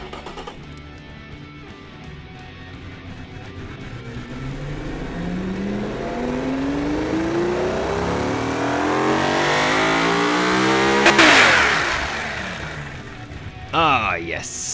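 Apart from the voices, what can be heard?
1985 hypercar engine revving in BeamNG video game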